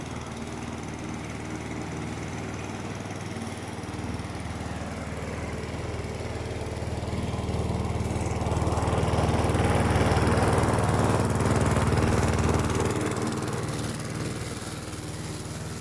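A RAPTER self-propelled walk-behind lawn mower cuts grass with a steady droning engine roar, close and loud, rising in intensity midway as it bites into the grass, with no voices.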